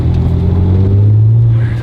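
Supercharged Honda NSX driving with a loud, steady engine drone and low rumble that holds close and even throughout, no voices.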